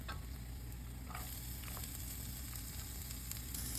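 Garlic and onion sauté in hot oil with a steady, close crackling sizzle that runs throughout, joined by a few faint scrapes of a stirring utensil.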